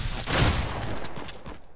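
A sustained rattle of AK rifle gunfire in the Fortnite video game, dense and continuous like a long automatic burst, loud and fairly close without speech.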